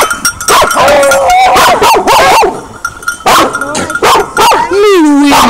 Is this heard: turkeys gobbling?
no